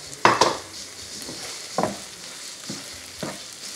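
Ground turkey fried rice sizzles softly with butter in a pan over low heat, broken by a few sharp scrapes and clinks of a utensil stirring against the pan.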